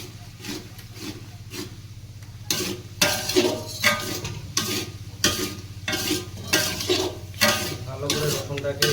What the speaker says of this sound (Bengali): পেঁয়াজের সঙ্গে ভালো করে রসুনটাকে মিশিয়ে নেব